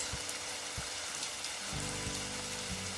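Rain falls steadily in a ghostly otome romance video game, a soft, even patter on surfaces that continues throughout, with faint low thumps underneath and no voices.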